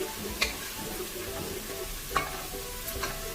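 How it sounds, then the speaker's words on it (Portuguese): Chopped garlic and onion fry in a pan, a steady close sizzle broken by a few light scraping stirs. "Ó, o alho começou a dourar,"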